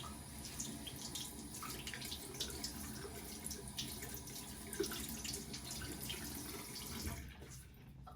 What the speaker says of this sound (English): I'm going to take that, I'm going to rinse it.